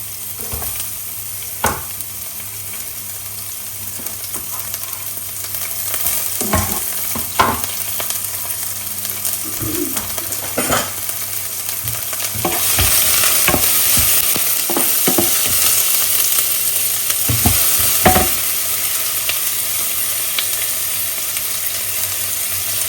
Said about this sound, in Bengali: এখন আমি রান্না করব বা ভাজি করব হচ্ছে ভেন্ডি ভাজি করব, যার জন্য পেঁয়াজ আর কাঁচামরিচ দিয়ে দিলাম।